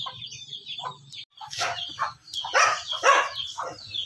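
Several sick chickens with diarrhea cluck and squawk close by in short irregular bursts, with low background murmuring underneath.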